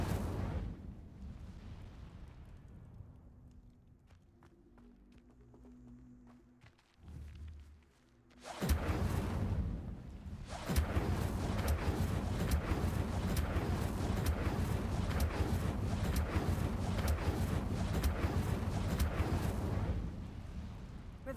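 In the game Hogwarts Legacy, the Incendio fire spell is cast: after a quieter stretch of low rumbling, a sudden loud whoosh bursts in and settles into a sustained roaring, crackling blaze with rapid flickering pops.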